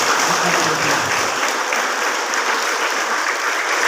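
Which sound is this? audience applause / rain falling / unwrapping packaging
audience applause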